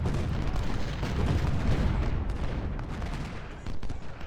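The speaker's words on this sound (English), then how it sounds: "So there's artillery in Gettysburg." Artillery fire in Ultimate General: Civil War during the Gettysburg battle gives a dense, continuous rumble of cannon booms and gunfire layered over one another, loud and unbroken throughout with no pause.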